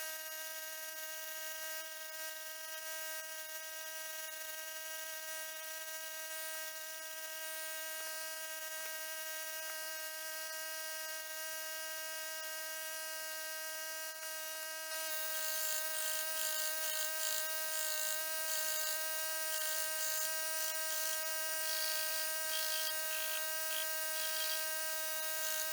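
Belt grinder running on the slack belt section while sanding a handmade knife handle, a steady loud motor whine throughout, growing harsher and brighter about midway as the handle presses against the belt.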